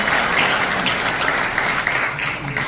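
A crowd gives a sustained round of applause for a WWII veteran at a Pearl Harbor Day honoring ceremony, steady dense clapping filling the space throughout.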